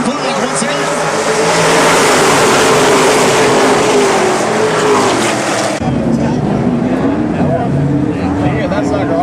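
Stock race cars thundering around the Snowball Derby track under green flag, a dense continuous engine roar held at steady high volume for the whole stretch, with commentary voices running underneath.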